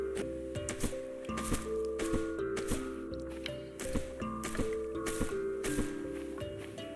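Water stills being filled in the survival game Stranded Deep: a busy run of soft wet squishes and drips layered over steady game background music and ambience, with repeated short splashy bursts and no talking.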